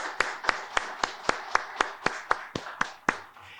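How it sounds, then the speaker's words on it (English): A small audience claps for a production team in a slow, spaced run of about a dozen distinct hand claps, close and fairly faint, with no voices over them. "Let's give a big round of applause for our production team"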